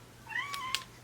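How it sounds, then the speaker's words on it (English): A pet cat gives a single short, soft meow close by in a quiet indoor room, with a rising and falling tone and no other sound around it. "it's a sweet baby meow"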